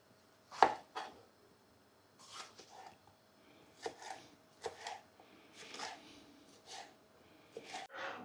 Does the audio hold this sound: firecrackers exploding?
no